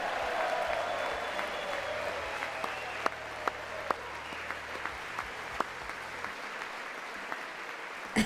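Applause in the chamber during Trump's address to Congress, a broad wash of clapping at moderate distance with a few sharper claps standing out, fading gradually.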